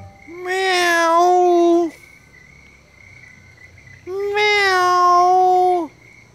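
Two long, drawn-out meows, loud and close with a few seconds of quiet between them, sound like a person's voice imitating a cat over faint insect-like background chirping.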